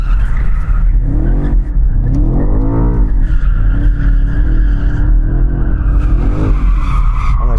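Heavy car spun up in two-wheel drive mode, its tyres screeching and smoking in a loud, sustained wheelspin with rising and falling engine roar, close and continuous without talk.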